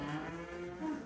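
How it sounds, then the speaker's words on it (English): Cows lowing inside a farm barn, one sustained deep moo with a steady droning tone, close and clear with no talking. "Sorry about all the cow noise, but welcome to the farm."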